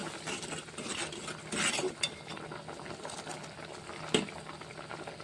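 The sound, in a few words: dal (lentils) boiling in a pot for spinach dal curry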